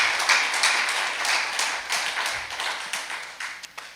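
Audience applause at a Korean lecture hall event: dense, crackling clapping from many hands fills the full four seconds, steady and fairly close, swelling and easing slightly with no speech over it.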